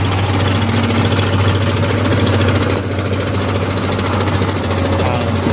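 A truck's diesel engine runs loud and close with a steady knocking rumble, while a voice talks over it briefly.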